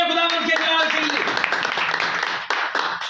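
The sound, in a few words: loud applause in church for the glory of the Lord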